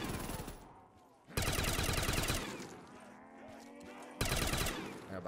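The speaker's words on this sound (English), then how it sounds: "The pack version of this gun is insane." An upgraded gun fires in Black Ops 3 Custom Zombies, loud dense bursts of rapid automatic shots in two main volleys separated by quieter ringing decay and game effects.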